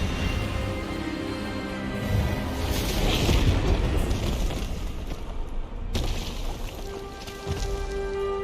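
Disarming spell effect from the Hogwarts Legacy video game: a booming magical burst swelling mid-clip with a rushing roar, a sharp cut, then a lingering tonal hum beneath game ambience.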